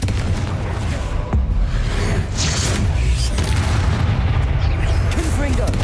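Blasting spells from Hogwarts Legacy explode in dense, loud, continuous booms and crackling bursts that pile over one another, with combat noise throughout.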